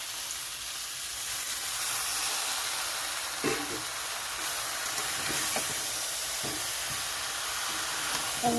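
Mango pickle frying in a pan with sugar as it is stirred, giving a steady, close sizzling hiss with occasional soft scraping knocks from the stirring.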